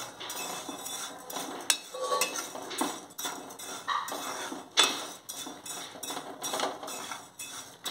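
Semolina and vermicelli are lightly roasted in a pan while a utensil keeps scraping and clinking against the metal in a busy, continuous rhythm with occasional sharper knocks. No one speaks.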